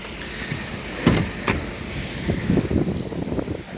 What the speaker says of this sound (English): So electric windows for the front.